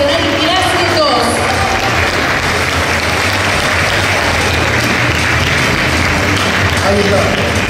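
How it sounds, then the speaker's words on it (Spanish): Loud, sustained applause from a crowd at an athletics award ceremony, a dense continuous clapping that holds steady throughout. "Fuerte el aplauso para el cuarto puesto de la promocional clase 2"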